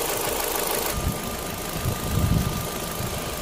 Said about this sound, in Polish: nasz silnik chodzi już prawie godzinkę na naszej płukance